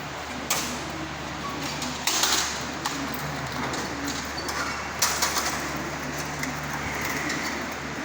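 A large flock of racing pigeons at a toss release, with wings beating and birds cooing amid steady outdoor noise and repeated sharp flapping bursts.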